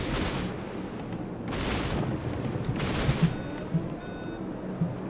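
Gunfire and booming shots from warships in the naval video game World of Warships, with several bursts of rumbling fire and a few sharp distant cracks over a continuous low battle rumble, no talking.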